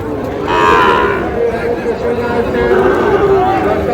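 Sahiwal heifer calves moo loudly and nearby at a cattle market in Meherpur, against a busy market din, with people chattering in the background.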